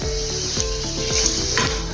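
Green pea pakoras fry in hot oil over a low flame with a steady, close sizzle, joined by a few light clinks of a utensil stirring and turning them.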